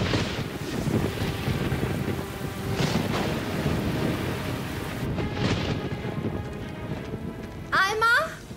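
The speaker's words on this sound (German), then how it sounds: "Aber es regnet draußen in Strömen." Heavy rain pours steadily outdoors in an animated cartoon scene, with a dense hiss and gusty rumble, close and loud, ending with a brief sharp sound at the end.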